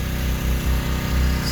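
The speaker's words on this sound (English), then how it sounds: "slowly sanding away that final layer of wood, get me down to the glass" A sanding disc grinds wood off the transom of a Formula 242 boat, a close, steady motor whine that dips in a rough rhythm as the disc bites, with no talking.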